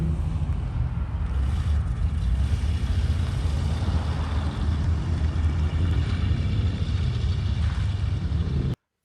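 A convertible pulls away from an outdoor swap meet car show in Greenville, Texas, its engine a steady low rumble with wind buffeting the microphone, continuous and fairly close throughout before cutting off abruptly.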